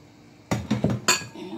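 A bowl is handled in a home kitchen during salad preparation, several quick clinks and knocks of dishware in a short cluster, close and fairly loud with no talking.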